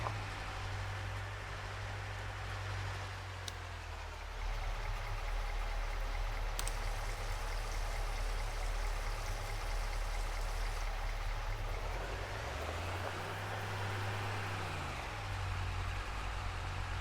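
Water pouring steadily into a tank in the farming game Farming Simulator 25, a constant rushing stream with a low mechanical hum underneath, continuous and fairly close with no talk.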